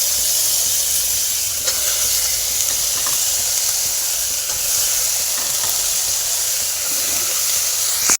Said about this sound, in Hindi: और अब मैं इसमें डाल दूँगी ये मूलियाँ।